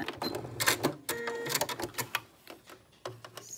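A sewing machine stitches back and forth across bralette neck binding, its motor running in short close bursts separated by brief pauses, with no talk over it.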